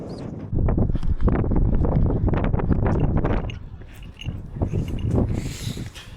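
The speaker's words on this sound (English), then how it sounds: "the wind's really picking up" Strong, blustery wind roars across open Scottish countryside on a rainy day, a loud continuous rush over the microphone that eases briefly, then surges again.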